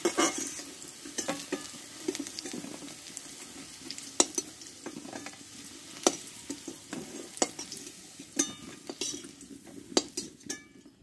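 Chunks of raw green banana sizzle in hot oil as a spatula scrapes and knocks against the pan in frequent irregular strokes, a close, moderately quiet kitchen sound with no voices.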